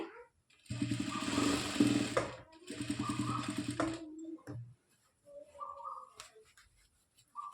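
A sewing machine stitching a blouse, running in two steady bursts of rapid mechanical chatter, close and fairly loud, then stopping for quieter handling sounds and faint background noise.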